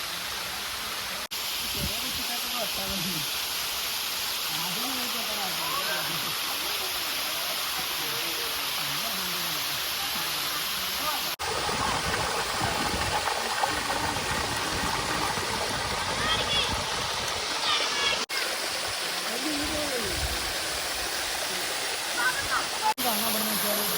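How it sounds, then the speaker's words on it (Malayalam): Paloor Kotta waterfall in Kerala pours from a height with a loud, steady, broadband roar that fills the whole scene, and a voice talks over it in places. "അത്രയും ഹൈറ്റിൽ നിന്നാണ് ആ വെള്ളം ചാടുന്നത്"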